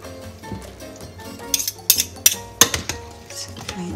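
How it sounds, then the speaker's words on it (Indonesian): A utensil stirs a breakfast mixture in a bowl, bringing a run of close, sharp clinks and taps against the bowl's side in the second half, after a quieter stretch of soft handling. "Setelah itu kita aduk lagi biar tercampur rata."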